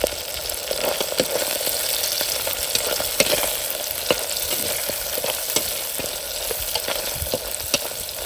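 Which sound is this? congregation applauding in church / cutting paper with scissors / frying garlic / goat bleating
frying garlic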